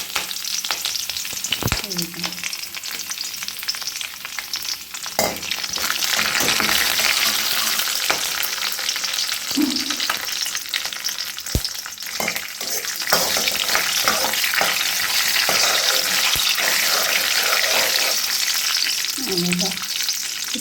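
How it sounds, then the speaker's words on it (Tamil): Curry leaves sizzle and crackle in hot oil with urad dal and chana dal for a wedding-style tomato pachadi, a steady loud frying hiss with occasional stirring clinks and spatters. "கொஞ்சம் கறிவேப்பிலை கொஞ்சம் சேர்த்துக்கலாம்"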